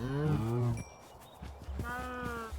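Cows mooing in Minecraft, two drawn-out lowing calls, one at the start and another about a second later, close and clear with a short quiet gap between them.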